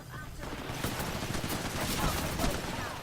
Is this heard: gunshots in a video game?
yes